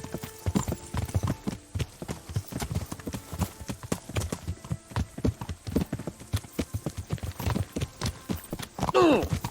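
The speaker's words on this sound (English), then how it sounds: "Are you riding a horse for like 3 days?" Horse hooves clip-clop in a steady rhythm as a rider travels on horseback in Kingdom Come Deliverance, close and clear, with a snort near the end.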